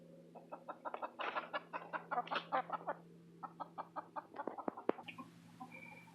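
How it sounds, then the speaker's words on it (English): A small flock of chickens, frizzles, silkies and Easter eggers, clucks and chatters in quick overlapping calls over a steady low background hum, close by and fairly quiet, with no talking. "I'm going to share with you the chickens that we just went and picked up"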